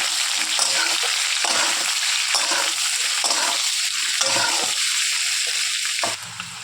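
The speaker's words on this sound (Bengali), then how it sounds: "আলুটা ভাজা হয়ে গেছে" Potato pieces seasoned with salt and turmeric fry in hot oil, giving a steady, loud, close sizzle with scraping stirs breaking through at intervals. No one speaks over it.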